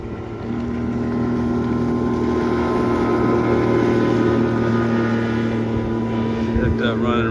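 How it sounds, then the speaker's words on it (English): A Yamaha 85HP outboard on a RayCraft bass boat passes close by, a strong steady engine drone with wind buffeting that swells slightly as it goes past. "it's doing a flyby with the new reeds and carburetor work"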